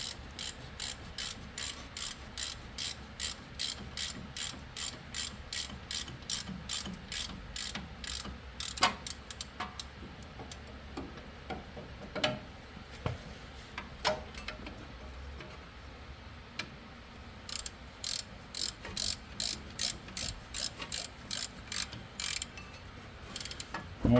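A hand ratchet tightens brake rotor bolts in crisscross order on a first-generation Chevy Colorado, with rapid bursts of close, loud clicking broken by brief pauses between bolts.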